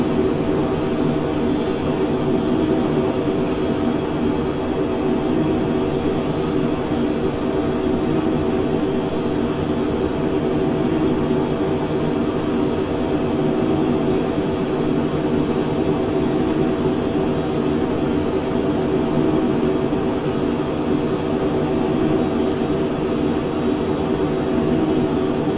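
Twin jet engines of a Phenom 100 in Microsoft Flight Simulator, heard from the cockpit in cruise as a loud, steady, unbroken roar with a low rumble and a faint high whine.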